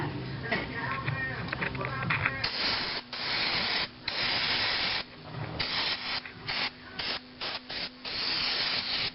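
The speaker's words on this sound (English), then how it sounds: "Actually, this is carbon choke cleaner." Bursts of aerosol carbon and choke cleaner hiss in short, repeated sprays with brief pauses between them, close and loud, during an oil change on a Lexus IS300.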